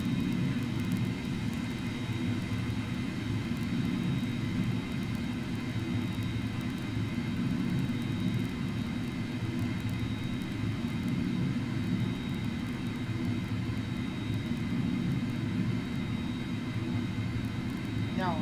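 Jet engines of a Fokker 100 airliner in a flight simulator game drone steadily and loudly with a constant rumbling whine, unchanging for the whole stretch.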